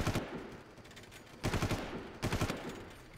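Far Cry game gunfire comes in three short automatic bursts, rapid loud cracks over a steady roar of background ambience.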